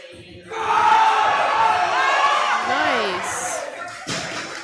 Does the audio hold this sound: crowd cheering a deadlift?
yes